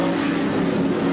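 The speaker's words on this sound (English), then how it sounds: "The Camaros are coming." Camaro race cars at an IMSA race at Pocono roar past under acceleration, a loud, steady, close engine drone with no talk.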